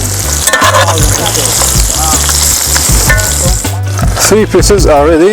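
Pieces of food fry loudly in a pan under prominent music, with a brief spoken line partway through.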